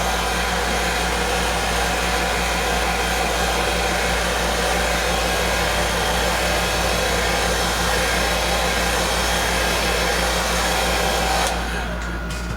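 Hair dryer blowing steadily to dry paint on a model, a constant loud whooshing hum with a low motor drone, cutting off abruptly near the end.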